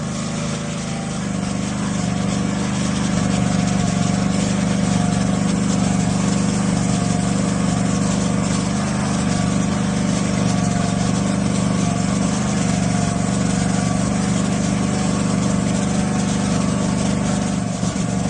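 A gas pressure washer fitted with a Karcher Dirt Blaster rotary nozzle cleans a driveway, its engine droning loudly and steadily the whole time with a low rumbling hum and no voices.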